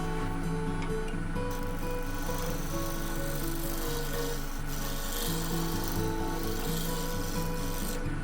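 A woodturning tool takes light cuts on a spinning wood piece on a lathe, producing a continuous loud rasping, scraping whir with a steady motor hum and no pauses.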